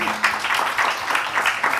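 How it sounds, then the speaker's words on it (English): A panel audience claps in short bursts of applause, fairly close, with a voice partly mixed in. "I think a round of applause for everybody here."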